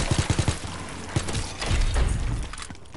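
A heavy video game gun fires a quick burst of five thumping shots, then a single louder blast, followed by rumbling booms and crackling debris; no voices are heard.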